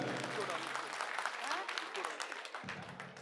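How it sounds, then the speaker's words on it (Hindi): Crowd clapping at an outdoor political election rally in Janakpuri, Delhi, a dense steady wash of applause running throughout with voices mixed in, fairly loud and continuous before dropping off near the end. "एक बार जोरदार तालियां अपने लिए बजा लीजिए।"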